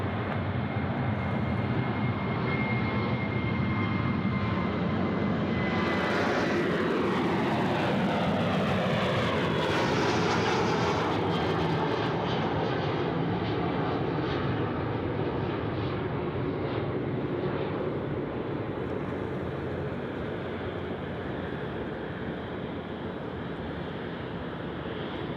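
A Rex Boeing 737 departs Sydney Airport, its jet engines building to a loud roar that sweeps past and then slowly fades into the distance, with wind noise on the microphone throughout.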